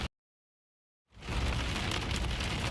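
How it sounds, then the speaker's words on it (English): Heavy rain pelts car windows during a tornado storm in the Midwest, with a roaring, steady downpour that starts abruptly after about a second of silence. "You hear the rain pelting his windows right now."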